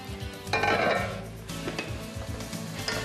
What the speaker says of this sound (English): We're gonna just let those saute for just a second